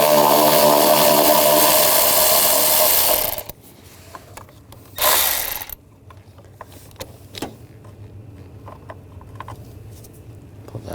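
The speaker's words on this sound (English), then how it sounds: "Using a 10mm socket, take this bolt out." A ratchet with a 10mm socket works a bolt loose on a 2008-2012 Jeep Liberty 3.7L V6, a loud burst of clicking first, then a short second burst and scattered faint clicks and knocks.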